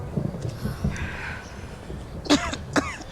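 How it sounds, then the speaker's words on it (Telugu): An older woman coughs outdoors in cold wind in London, with two sharp, fairly loud coughs close together near the end over quiet background noise. "చూసారా ఎలా దగ్గుతున్నారో?"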